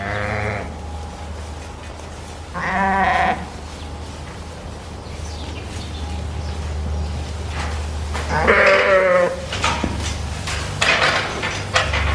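Sheep bleat in three clear bursts, near and loud, as lambs raised for meat are run into a pen on a farm, over a steady low engine-like hum and faint rustling.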